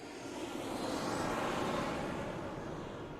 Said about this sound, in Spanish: escuchando el ruido de aviones volando sobre ti